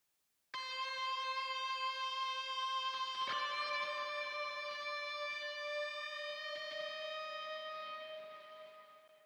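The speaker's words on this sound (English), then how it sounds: "And finally we have this lead guitar that comes just in the second pre-chorus, and it sounds like this" Lead guitar line from a modern metalcore synthwave song, played through a 5150-style amp sim with reverb and delay: a sustained, bright distorted melody held over about nine seconds, with one note change near the start and a fade at the end, no talking.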